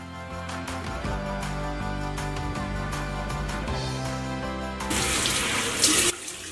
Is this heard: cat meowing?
no